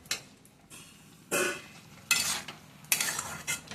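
A spoon scrapes and stirs chorchori of cauliflower stalks, potato, eggplant and beans in a pan, with three sharp scraping strokes over a soft background sizzle.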